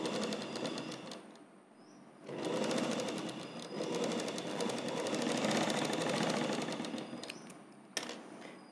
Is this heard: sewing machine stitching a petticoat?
yes